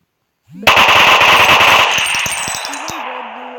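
Submachine gun from the I Gun Pro mobile game fires a rapid, loud automatic burst of about a second and a half, followed by a ringing tail and the mechanical clicks of the weapon settling, with no voices.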